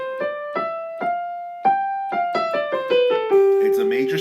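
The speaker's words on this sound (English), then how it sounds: "But a Mixolydian mode sounds like this." A Mixolydian mode scale, a major scale with a lowered seventh, played note by note as a steady ascending run of about a dozen clear pitched tones, ending on a sustained, fuller chord.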